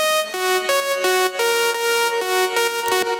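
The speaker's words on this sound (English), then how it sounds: "So it's literally just one voice of saw with a tiny bit of release and a tiny bit of white noise" A lone Serum lead made from a single centered saw-wave voice with a touch of release and faint white noise plays a quick stepping melody of about eight short buzzy notes, bright and dry with no other sounds.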